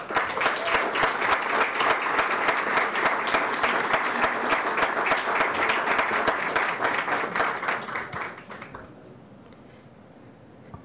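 Audience at a University of Brasília ceremony honouring a professor emeritus applauding in welcome, dense steady clapping for about eight seconds before it dies away into quiet.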